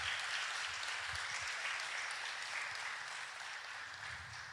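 A church congregation applauds the Lord during a Portuguese-language sermon, a broad, steady roar of many hands clapping that holds evenly throughout, with faint low murmurs beneath.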